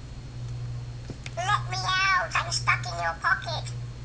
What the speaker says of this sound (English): it's got lots of different lots of different ringtones that you can put on there